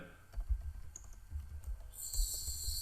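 A computer keyboard is typed on in a quiet room, a rapid uneven run of soft clicks and taps, close and fairly faint, with no voices.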